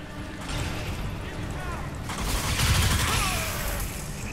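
Gunfire from a weapon in the video game Crysis 3 comes as a dense rattle of rapid shots and mechanical clatter, louder midway and continuing throughout, with a voice talking over it.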